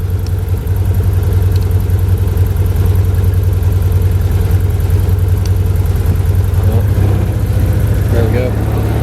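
Can-Am Commander XT 1000 side-by-side UTV engine droning steadily at low to mid revs while riding, a continuous loud rumble with faint talk underneath.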